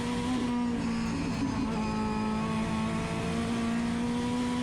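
Time attack race car tuned from an engine capable of 1,500 horsepower droning at a steady high pitch with a slight rise in revs, loud and continuous, heard at a distance without talk.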